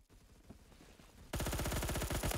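Rapid automatic gunfire from a Colt SMG 633 in Roblox Phantom Forces, a quieter burst followed by a loud, dense stream of fast shots with no talking.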